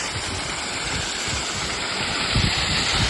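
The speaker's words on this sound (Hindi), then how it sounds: "आपको ये झरना जो ऊपर से दिखाया था बिल्कुल नीचे गिर रहा है ना" Small forest waterfall in Hanumana, Madhya Pradesh, producing a steady broadband rush of falling water, close and fairly loud, continuous without pause.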